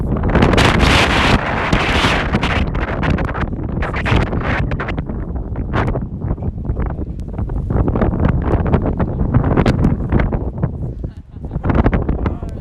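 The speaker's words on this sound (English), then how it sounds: "Wind is trying to pull our tripod over" Strong gusts batter a camera tripod at an outdoor girls' soccer semifinal, a loud continuous roaring buffet of wind noise across the whole span, with voices faintly under it.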